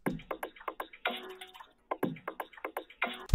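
A percussion loop from a Producer Grind drum kit plays at normal speed, a crisp run of tight ticking hits in a quick, steady pattern with a brief gap midway, close and dry with no voice.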